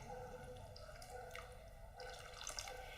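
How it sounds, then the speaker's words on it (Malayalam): Hot water pours steadily into a sugar mixture for a homemade lemon-lime soda, a continuous splashing trickle over a busy tonal background. "ഇനി ഇതിലേക്ക് ചൂടുവെള്ളമാണ് ഒഴിക്കേണ്ടത്"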